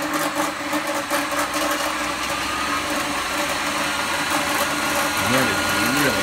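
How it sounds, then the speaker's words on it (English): A heavy-duty 10-amp treadmill motor runs at speed with a steady, dense mechanical whir and hum, close and constant, as a voice talks over it. "it actually has got really good speed to it. And it's a fairly heavy duty motor."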